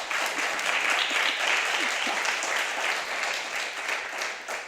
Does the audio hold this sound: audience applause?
yes